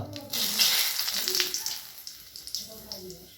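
Whole cardamom, two pieces of cinnamon and two bay leaves frying in hot mustard oil in a kadai, a close, steady sizzle with crackles that fades a little toward the end.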